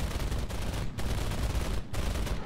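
Continuous machine-gun fire from an FW 190 A4 fighter in a video game, a loud dense rattle of rapid rounds in three long bursts with brief breaks, heard close and alone.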